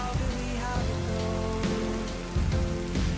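Steady rain pours throughout a dramatic movie scene, a dense continuous hiss under a low music-like drone, loud and even with a brief swell near the end.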